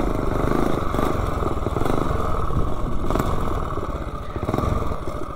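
A minibike with a 30-series torque converter and 40-tooth sprocket running flat out uphill, its engine loud and close with a steady, buzzing drone that eases slightly toward the end.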